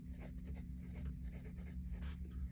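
A Sailor Pro Gear Slim fountain pen with a 14-karat fine nib and black ink scratches across paper, faint and close. The strokes come in short bursts over a low background hum, and the nib is slightly dry.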